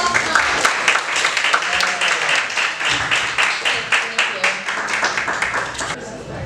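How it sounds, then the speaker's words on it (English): A small group claps and applauds for several seconds after a 10-minute talk, steady and close, with voices mixed in. "Round of applause now."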